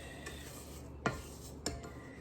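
Spoon clinks twice against a mixing bowl while stirring brownie batter with walnuts and moonshine, two short knocks close by over an otherwise quiet room.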